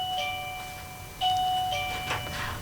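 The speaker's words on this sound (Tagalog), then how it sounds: "I'm so sorry about that doorbell." Doorbell chiming twice in a room, clear tonal ding-dong notes ringing out over a low background hum, with no talking.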